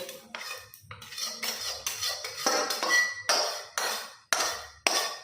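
Green peas being ground for kachori, a repeated scraping and knocking of stone or metal against a hard surface, in close, steady strokes with short gaps between them.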